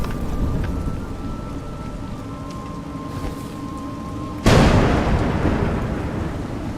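Steady rain pours throughout a game scene in A Juggler's Tale, then a sudden loud thunderclap crashes in near the end and rumbles on over the downpour.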